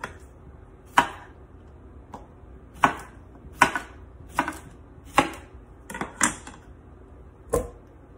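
Knife chopping half a cucumber on a board, about ten crisp separate cuts at an uneven, unhurried pace, close and clear with no talk.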